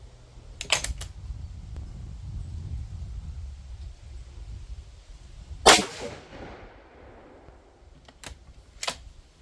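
A 6.5 Creedmoor rifle fires a 90-grain TNT bullet at about 3,100 feet per second outdoors: one sharp, loud report with a ringing decay, plus a few faint clicks before and after.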